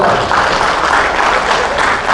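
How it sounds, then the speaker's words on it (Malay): Steady applause fills the hall for Datuk K. Ramachandran at an evening gathering of PKR members, a dense, even wash of clapping from a crowd that holds at full strength without a break. "Marilah kita sama-sama memberikan tepukan kepada Datuk"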